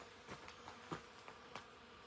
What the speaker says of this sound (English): The bees, you can hear the bees just making a buzzing noise.